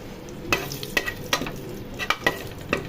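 Whole spices (cinnamon, cardamom, cloves and bay leaves) hit hot oil in a pan for egg rice, giving a close, steady sizzle with a few sharp stirring scrapes and clinks.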